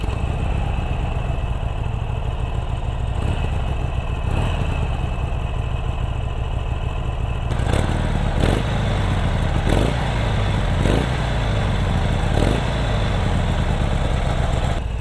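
A Harley-Davidson Iron 883 motorcycle fires up and settles into a steady, muffled idle, loud and close, with a few sharp throttle blips or clattering bursts spaced through the second half.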